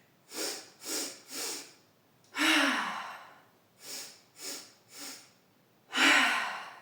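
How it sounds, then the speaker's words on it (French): During a dynamic yoga breathing exercise, a person takes three short, sharp sniffs in through the nose, then releases one long, breathy exhale through the mouth, and the pattern repeats. The breaths are close and clear, with no speech. "j'inspire par le nez 3 fois et j'expire par la bouche"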